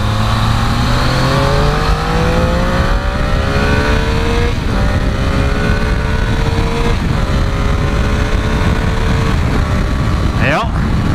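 A Triumph Tiger motorcycle accelerating hard, its engine note climbing steadily through gear changes, loud and close with constant wind roar.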